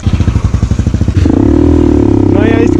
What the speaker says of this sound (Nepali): नयाँ स्कुटर भयो कि त तान्छ